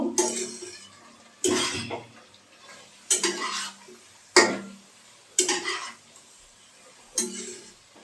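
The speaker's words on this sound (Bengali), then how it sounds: "আটাটা খুব ভালো করে নাড়াচাড়া করে নেব।" Flour stirred in a cooking pan with a spoon while making a drumstick and poppy seed dish, with close, loud scraping strokes about every one and a half seconds and a soft sizzle between them. No one talks.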